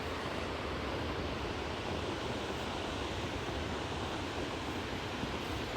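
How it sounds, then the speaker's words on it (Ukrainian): Steady, loud rushing of a mountain river in winter at Yaremche, a broadband roar, continuous and unbroken, close by, with no voices. "Шум річки"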